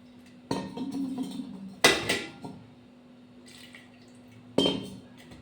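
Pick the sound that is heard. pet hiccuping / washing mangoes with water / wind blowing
washing mangoes with water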